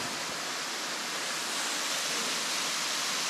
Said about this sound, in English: What were your thoughts about the waterfalls?